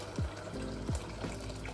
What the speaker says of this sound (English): I'm using a kettle here, so the water becomes hotter faster.